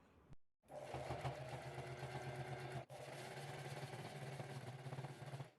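Sewing machine top stitching the top edge of a quilted tote bag, a steady continuous motor whir with a brief break partway through, close and fairly quiet, no talk.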